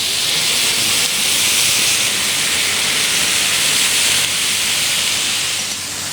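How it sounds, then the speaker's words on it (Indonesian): Oxtail and sliced onions grilling in a hot pan, a loud, steady, close sizzling hiss with no breaks throughout. "Lalu tinggal kita panggang juga bareng sama bombaynya ini."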